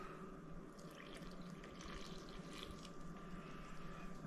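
Warm water for yeast dough for garlic breadsticks is poured into a bowl, a faint, steady trickling splash up close that lasts a few seconds, with no voices.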